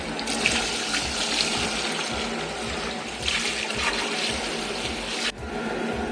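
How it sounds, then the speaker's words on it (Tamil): Water gushes steadily into a large biryani pot for a five-kilo batch of rice, a loud continuous rushing pour with a brief dip near the end. "இப்ப 5 கிலோ அரிசிக்கு தேவையான தண்ணி சேர்த்திக்கலாங்க. 7 லிட்டர் தண்ணி சேர்த்திக்கலாம்."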